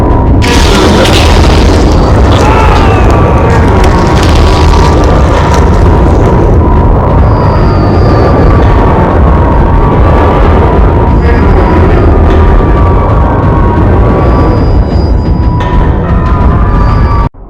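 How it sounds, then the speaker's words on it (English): The Silent Hill game over screen's dense, loud wall of noise, with metallic shrieks scraping across a rumbling low drone and no pauses throughout. "Metallic shrieks scrape across the mix, and buried deep underneath are faint human screams."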